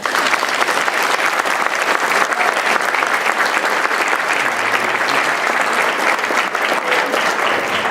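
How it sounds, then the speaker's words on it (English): Steady, dense audience applause, many hands clapping continuously and loudly for several seconds with no break. "give her a round of applause."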